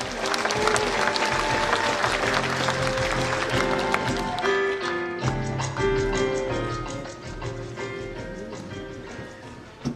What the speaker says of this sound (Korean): 여러분 큰 박수로 환영해 주시면 고맙겠습니다